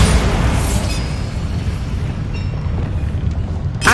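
Bombarda blasting spell going off in Hogwarts Legacy: a loud, booming explosion at the start that trails into a low rumble, with a second sharp burst near the end.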